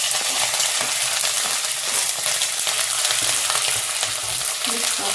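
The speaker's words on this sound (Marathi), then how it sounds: "आता याच्यात मी हिरवी मिरची टाकते।" Green chillies frying in a hot pan of oil for poha, a loud, continuous close sizzle with bursts of crackle and occasional stirring, no voices.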